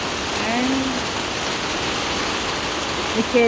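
Rain falls steadily in a constant, even hiss that fills the whole stretch, with faint tonal sounds drifting over it near the start and end.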